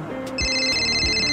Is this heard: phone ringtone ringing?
yes